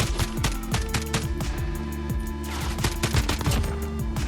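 A pistol fires repeatedly in Modern Warfare, a fast run of sharp shots at a roughly regular rhythm, loud and close, over continuous game background noise.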